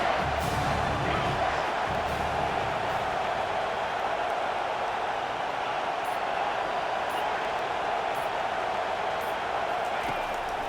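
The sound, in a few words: stadium crowd cheering in a football video game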